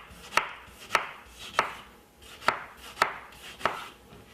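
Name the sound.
knife cutting through a large tomato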